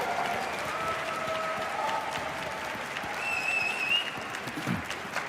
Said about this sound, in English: A big round of applause for all of our cosplay contestants here